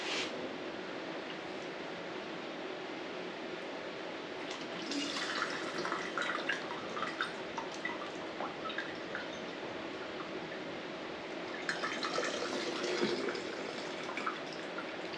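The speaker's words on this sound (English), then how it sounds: "So I'm just going to do this until I get all of the broth in jars, and then put them in my canner and pressure can them." Hot broth poured from a pot into jars before pressure canning, a soft steady liquid trickle and splash at low level with faint kitchen clatter, no one talking.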